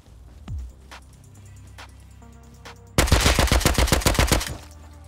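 AK rifle fire in the Rust video game: a single distant shot, then a loud close burst of rapid automatic fire lasting about two seconds, with scattered faint shots before it.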